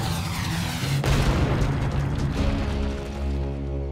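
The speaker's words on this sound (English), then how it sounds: "Trixie, what do you say we give him the old freezing frag?" A freezing frag blaster shot fires in the Slugterra cartoon, a loud booming burst with a sharp attack followed by a rumbling, rushing tail and a low drone underneath, with no voices.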